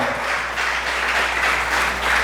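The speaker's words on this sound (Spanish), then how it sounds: "el aplauso fuerte, Señor" A church congregation claps loudly during a sermon, dense continuous applause filling the short stretch at steady volume with a low hum beneath.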